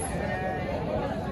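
Sheep or lambs at a busy livestock market bleat amid a continuous crowd murmur of voices and trading chatter, the calls blending into the dense background noise throughout.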